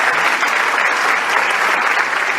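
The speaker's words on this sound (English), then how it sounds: "Let us give a warm round of applause to His Excellency Chung Se-gyun" A big rally audience gives a warm round of applause, loud, even, continuous clapping filling the hall from start to finish with no speech over it.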